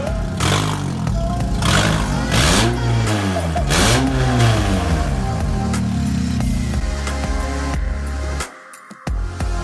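A Honda Civic Si engine revs hard and loud with no exhaust fitted, a raw, unmuffled roar rising and falling in repeated bursts before cutting back to a rough idle.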